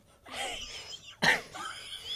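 A person coughs twice close by, short throaty bursts with a harsh second cough, no other sounds around.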